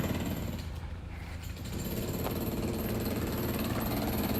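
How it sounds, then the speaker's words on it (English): Construction drilling in the distance near a cemetery in central Tokyo, a steady, continuous rattling hammer-like drone that stays constant throughout with no talk over it. "they're drilling something over there"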